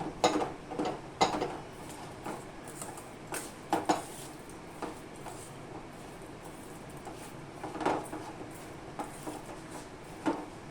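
Dry flour and sugar are rubbed together by hand in a bowl for a homemade breakfast bread dough, giving a quiet rustle punctuated by light taps and clinks at uneven intervals. No one speaks.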